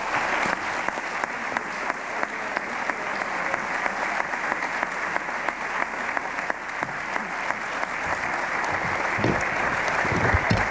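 A convocation audience applauds steadily, welcoming Dr. Danielle Allen, with dense sustained clapping from a large crowd throughout.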